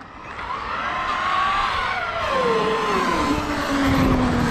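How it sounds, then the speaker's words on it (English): An RC truck with an upgraded 12S motor speeding across concrete, its electric whine rising and then falling in pitch as it accelerates away and passes, loud and continuous with road noise underneath. "let's hit that joint and see what this 12S motor could do on the concrete"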